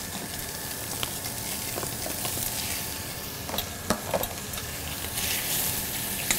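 Scallops and white fish frying in a pan, a continuous close sizzle with occasional louder pops and crackles.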